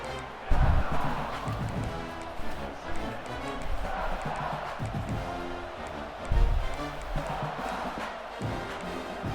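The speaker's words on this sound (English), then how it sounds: "listen to this crowd noise. This stadium is vibrating" A packed college football stadium crowd in EA Sports College Football 26 roars in a steady, loud wash, with booming surges and a commentator talking over it.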